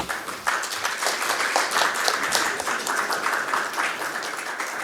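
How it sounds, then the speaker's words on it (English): Audience applause at a Bombay Chamber REITs conclave, a steady dense wash of many hands clapping from a large crowd, continuous and even throughout without a break. "A round of applause."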